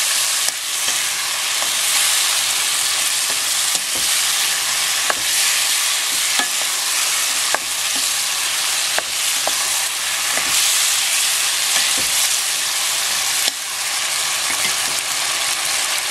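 Pork stirred in a hot frying pan, a steady loud sizzle with scraping spoon strokes and small clinks recurring throughout, close up and without talk.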